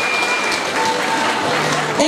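A village association gathering at a mevlüt program breaks into a short burst of clapping, a dense, even patter from a nearby crowd with a little murmur underneath.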